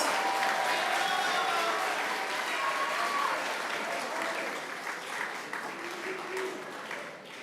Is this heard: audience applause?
yes